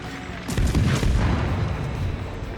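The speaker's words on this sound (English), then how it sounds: "so spamming the HE, get a fire on him" Naval guns firing high-explosive shells during a World of Warships destroyer battle: a sharp booming report followed by a rumbling, sustained low roar, loud and close with no talk.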